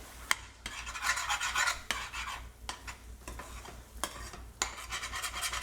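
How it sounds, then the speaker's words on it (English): A utensil scrapes cooked spices across the bottom of a pan of simmering okra masala. The rasping strokes come in a repeated rhythm, close up, over a quiet sizzle. "now you can see I'm scraping off all of the spices"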